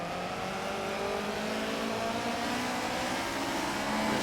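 Subaru BRZ and Honda S2000 race cars at Silverstone give a steady, loud engine drone that holds and climbs slightly, several motors blending at mid distance.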